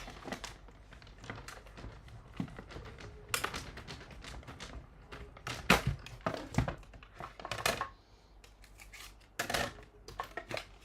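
Patterned paper run through a hand-cranked die-cutting machine while making pear-themed stamped cards: a close series of sharp clicks, crunches and taps at an uneven rhythm, with no voices.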